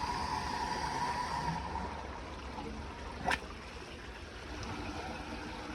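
Water gushes from a pipe into a storage tank after a pump motor is switched on, a steady close rushing flow with a single brief click partway through.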